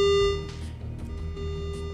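Repeating electronic beeps from a station alarm in the space game Ostranauts, a steady tone sounding over low game hum, fairly close and continuous.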